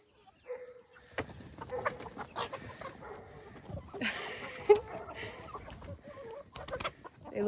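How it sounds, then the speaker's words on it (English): Chickens cluck in a backyard coop in a food-forest garden, a scattered run of soft calls and scratchy movement over faint steady background hum. "having the chicken coop right here"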